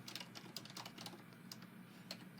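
Typing on a computer keyboard during a podcast recording: a steady run of quick, irregular key clicks, faint and close-miked against a low background hum, with no talk over it.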